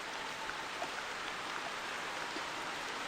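Steady rain in the hunting game theHunter, set in a bayou during a duck hunt: a constant, even hiss of falling drops across the whole stretch, with no voices over it.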